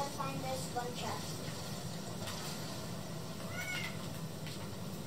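A cat meowing inside a Fortnite match, with several short bright meows over a quiet, busy game background, faint and somewhat distant.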